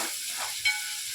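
Capsicum frying in oil in a pan, a brief close sizzle and hiss with one quick scrape of a spatula, no voices.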